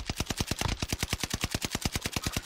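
In a first-person multiplayer shooter, gunfire cracks out in a steady, rapid string of evenly spaced shots, moderately loud and close, with no talk over it.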